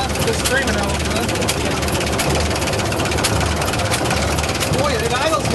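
The Waukesha engine of a Linn tractor idles at a steady, loud pulse, low and rumbling with a regular knocking beat, and voices talk over it now and then.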